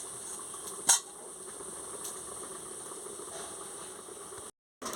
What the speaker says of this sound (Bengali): ভালো করে মাছটা ভালো করে ফুটে যাক